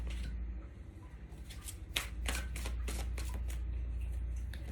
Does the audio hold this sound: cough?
no